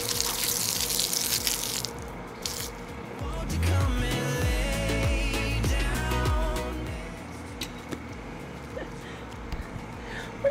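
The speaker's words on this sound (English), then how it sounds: "Let me rinse my feet off here." Water runs from a garden hose as feet are rinsed off, a steady splashing gush building in the middle and then easing, fairly close and loud.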